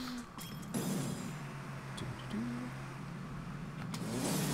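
A tractor engine in the farming video game Farm Together hums at a low, steady idle with slight revving swells, fairly quiet and alone with no talk over it.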